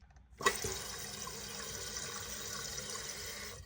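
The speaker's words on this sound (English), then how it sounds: "I realized that I could hear my toilet run." A toilet tank with a leaking flapper runs and refills: a soft, steady hiss of water flowing in, starting after a quiet moment and continuing evenly, faint and alone.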